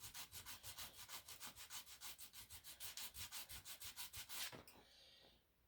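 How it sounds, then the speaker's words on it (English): Hand sanding with 80 grit sandpaper, a steady run of about twenty rhythmic rubbing strokes, close and fairly quiet, ending in a brief scrape and fade. "This is 80 grit sticking sand."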